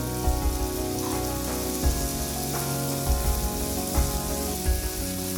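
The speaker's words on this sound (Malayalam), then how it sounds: "ഇതാ നമ്മൾ സവാള നന്നായിട്ട് വഴറ്റിയിട്ടുണ്ട്" Sliced onions sautéing in oil in a frying pan for a vegetable pola make a dense, even crackle like rain on a surface, close and steady, with faint low knocks and no talking.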